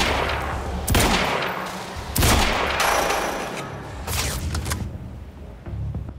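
Loud gunfire from a gun in the video game Quantum Break, several heavy shot bursts spaced about a second apart with booming tails, close and dominant with no talk.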